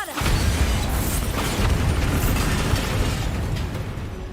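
A Bombarda spell explosion in Hogwarts Legacy bursts out as a loud, sustained rumbling blast with crackling debris, with no speech over it.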